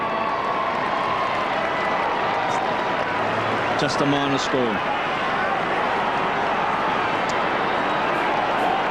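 Dense, continuous roar of a football stadium crowd at an Adelaide versus Carlton match, a broad wash of cheering and noise throughout with a commentator's voice speaking over it briefly.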